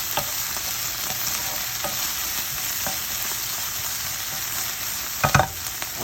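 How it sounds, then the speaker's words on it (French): Vegetables and quinoa simmer in a pan, making a steady, soft sizzling hiss throughout, with a few light stirring clicks and a brief louder scrape near the end. No one talks. "Et on va laisser mijoter tout ça tranquillement."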